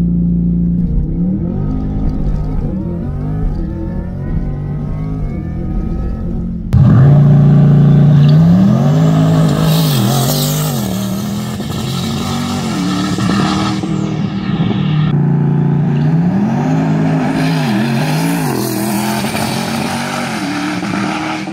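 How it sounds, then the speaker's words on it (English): A twin-turbo 2024 Corvette E-Ray launches on track: the engine burbles and builds revs, then bursts into a loud, close roar at launch, its note climbing through repeated rising sweeps as the car accelerates hard. No voices. "I'm gonna try to be real conservative on the launch here."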